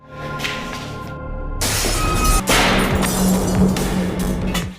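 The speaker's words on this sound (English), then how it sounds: "Filled with rage, she lashes out at Charles, grabbing a metal pipe and smashing everything around her in fury." A metal pipe smashes objects in a furious rampage, a sudden loud shattering crash after a short whoosh, followed by continued breaking clatter.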